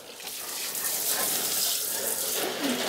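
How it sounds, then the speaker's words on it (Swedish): Filtered water poured into the water reservoir of a potted Marble Queen pothos indoors, a steady close splashing pour running continuously for about three seconds with no talking. "Eller om jag ska fylla på mer vatten i behållaren här nere."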